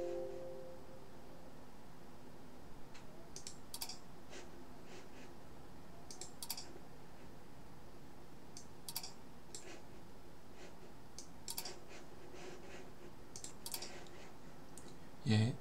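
A computer mouse is clicked while a video is exported, producing faint, sparse clicks spread irregularly through a quiet room hiss, with a slightly louder click at the very end.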